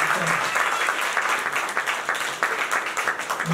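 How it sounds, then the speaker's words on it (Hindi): An audience at a stage play claps loudly and continuously, a dense, close wash of applause with brief pulses and faint voices mixed in. "जोरदार ताली बजाइए।"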